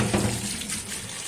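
Tap water runs steadily into a sink while fresh strawberries are washed, a close, continuous splashing stream with no talk over it.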